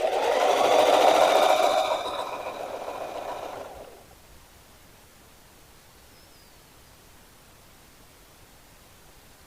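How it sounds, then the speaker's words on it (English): A sewing machine runs steadily while stitching a fabric grow bag seam about three quarters of an inch wide, a loud whirring burst for roughly four seconds that then stops, leaving near silence. "Drop your foot down, reverse it, and start sewing."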